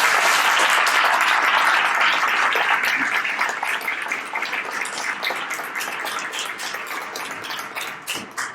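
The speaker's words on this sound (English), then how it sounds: "can we have a big round of applause for our students?" Sustained audience applause for students at a public board meeting, loud and dense at first, then gradually thinning and tapering off toward the end.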